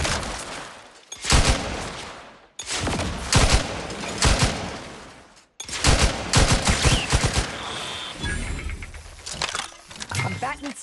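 Gunfire in the video game The Outer Worlds 2: loud bursts of rapid shots and machine-gun volleys in three long stretches separated by short silences, close and harsh, with faint game sounds mixed in.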